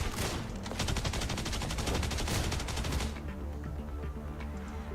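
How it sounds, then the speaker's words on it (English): A rapid barrage of automatic gunfire in the video game Snowbreak: Containment Zone, loud dense shots rattling for about three seconds before cutting off into a lower rumbling background. "Still, she managed to dodge the ensuing barrage of shots."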